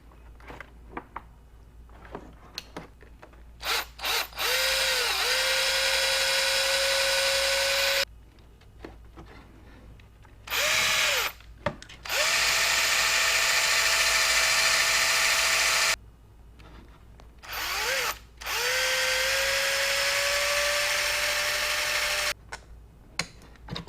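A power drill bores a mounting hole for a trunk light on a Honda Goldwing GL1800, with several loud sustained whirring bursts, each winding up and down, separated by brief pauses and short taps up close.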